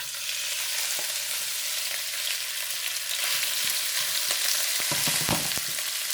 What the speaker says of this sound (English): now we're gonna cook the shrimp, so we don't have to wash the pan